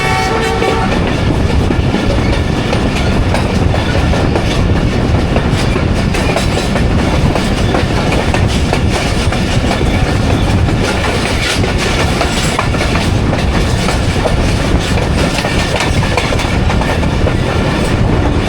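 A Jaffar Express passenger train rolls along rails between Attock and Rawalpindi near Nur Junction, a loud steady rumble with rhythmic clickety-clack of wheels over joints throughout, without any talk.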